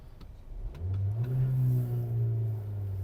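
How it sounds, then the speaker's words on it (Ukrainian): A Skoda Octavia vRS engine cranks and catches, then rises into a steady, close, rumbling rev that holds for a couple of seconds. "Давайте запустимо двигун."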